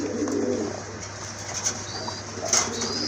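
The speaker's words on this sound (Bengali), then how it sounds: "ডাকে, এটা কিন্তু অনেক ডাকে" A crested male pigeon coos in low repeated murmurs close by, with brief wing flaps and a couple of sharp bright bird notes breaking in over a steady background hum.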